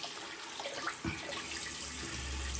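A tap runs steadily in a cold late-January setting, a faint continuous hiss of flowing water with a low thump partway through and no talking.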